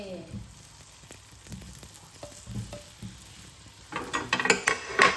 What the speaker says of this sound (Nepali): यसलाई यस्तरी सबैलाई राखेर यसलाई भुट्ने